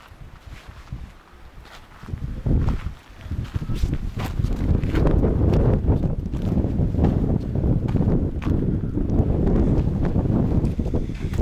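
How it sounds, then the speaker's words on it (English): Strong gusty desert wind at Joshua Tree National Park buffets the microphone, roaring and rumbling loudly for several seconds with rustling underneath. "It's cold and windy"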